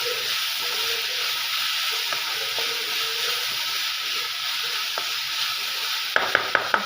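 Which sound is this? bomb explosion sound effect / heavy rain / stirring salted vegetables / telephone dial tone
stirring salted vegetables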